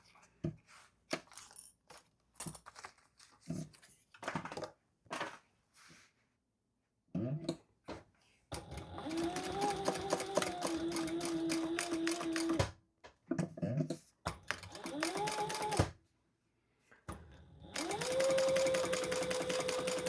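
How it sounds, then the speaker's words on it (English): A sewing machine top stitches across the top of a crossbody bag, running in several bursts of rapid needle chatter that whine up and down in pitch, separated by pauses filled with close handling clicks and fabric rustle. "I'm just going to fold these together and top stitch across the top."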